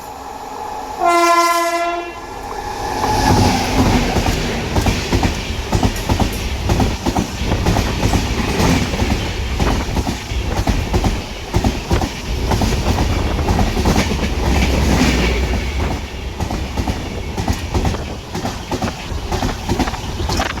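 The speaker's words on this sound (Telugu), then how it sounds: "మన ట్రైన్ అయితే బయలుదేరుతుంది." Chennai SF Express, train 12604 on the Guntur route, pulling away with a loud horn blast at the start, then a steady close rumble and rhythmic clatter of wheels over rail joints that fills the rest of the stretch.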